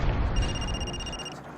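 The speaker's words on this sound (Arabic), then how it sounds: "تفاجأت إن ابن عبد الرحمن يتصل على جوالي" A mobile phone ringing with an incoming call in the evening as someone leaves a mosque: a steady electronic two-tone ring, thin and clear, lasting about a second over a background rumble.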